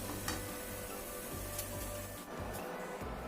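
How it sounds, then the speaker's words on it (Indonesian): Carrot and potato snacks fry in hot oil with a steady, soft sizzle and crackle, continuous and close, with a few brief sharper pops and no talking. "Kemudian goreng yang berikutnya."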